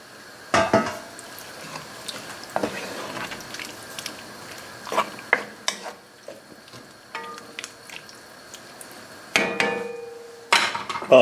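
Beef going into a pot for stroganoff brings repeated sharp clanks and knocks of a utensil against metal, scattered irregularly with quieter scraping and shuffling in between.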